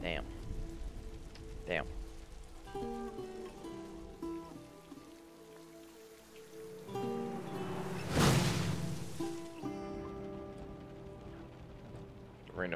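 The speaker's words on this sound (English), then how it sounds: "Rain effects are really nice." Steady rain falling and pattering on surfaces in The Last of Us, a continuous wash under gameplay sounds and music, with a brief louder rush partway through and a man muttering a word.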